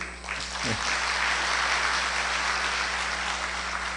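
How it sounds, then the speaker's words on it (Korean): An audience at a municipal administrative-system symposium in Hwaseong breaks into applause, a thick steady wash of clapping that builds in the first half-second and continues evenly throughout, with a brief voice at the start. "박수"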